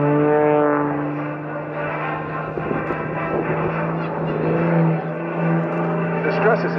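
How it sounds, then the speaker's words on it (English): MXS RH aerobatic plane with a 385 horsepower propeller engine flying at an airshow, a loud steady droning buzz with a strong low hum whose pitch shifts as it maneuvers, continuous and close. "Rob specially built this plane called an MXS RH with a 385 horsepower engine"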